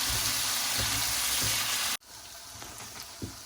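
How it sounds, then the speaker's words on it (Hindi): Potatoes fry over a low flame in a pan for an Afghani omelette, a steady broadband sizzle that runs continuously, cuts out sharply partway through, then resumes more softly with a few faint stirring knocks. "आलू हमारे अच्छी तरह भून चुके हैं"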